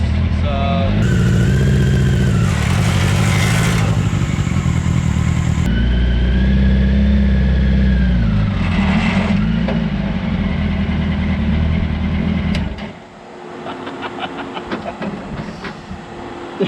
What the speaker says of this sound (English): It's really bogging the engine down a lot to even do this.